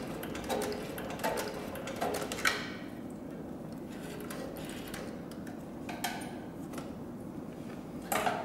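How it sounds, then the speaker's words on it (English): An industrial leather sewing machine for bags, belts and accessories stitching in reverse, giving a quiet, regular mechanical ticking and clacking rhythm that runs steadily with a few sharper clicks. "we're going to go ahead and sew in reverse"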